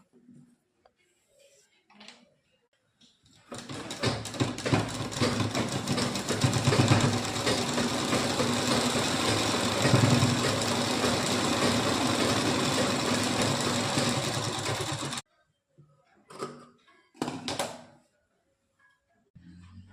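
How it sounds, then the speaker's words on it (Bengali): A sewing machine stitches a sleeve onto a nightie in one steady, close whirring run of about twelve seconds, with brief handling knocks and clicks before and after. "এখান থেকে আমি সেলাই মিলিয়ে দেব।"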